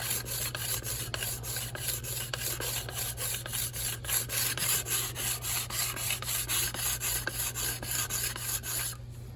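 Card scraper edge being sharpened after flattening on a sander, a rapid, regular series of rasping strokes, close and steady for several seconds, then stopping.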